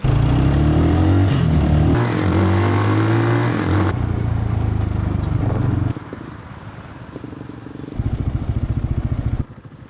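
RPS Cruiser 300 motorcycle with a six-speed gearbox, its throaty exhaust revving and shifting up close on a ride around Crystal River, then settling into a lower, pulsing idle before revving again.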